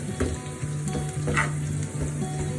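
Onions sizzling in hot oil in a home kitchen pan as they brown, a steady close crackle with occasional stirring scrapes and no talk.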